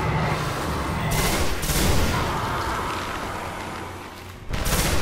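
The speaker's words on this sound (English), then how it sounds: "I'm using this pulse rifle" Pulse rifle fire in the video game Destiny, loud repeated bursts of shots in a sustained firefight that nearly fills the moment, close and punchy.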